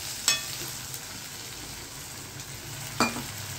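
Tomato and chili sizzling in a hot tempering for a Gujarati potato and cluster bean curry, a steady low crackle with two sharper spattering bursts, no voices.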